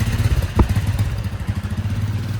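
Motorcycle engine kept revved so it won't stall, a steady throbbing mid-pitched idle with small rises in throttle, close and continuous with a brief clatter.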